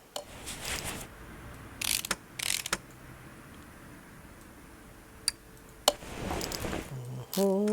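Mechanical clicks and ratchet-like clunks from fitting crankshaft bearing caps on an Aston Martin DBR1 engine in Car Mechanic Simulator 2018, a few separate snaps and bursts with quiet gaps between them and a brief tonal chime near the end.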